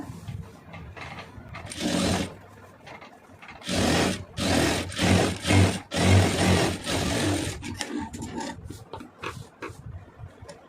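A sewing machine stitches a cloth doormat made from fabric scraps in loud, rapid bursts of several seconds each, separated by pauses of quieter handling and clicks.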